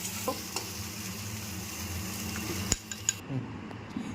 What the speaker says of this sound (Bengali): আবারও ভালো করে সবটা মিশিয়ে নিচ্ছি।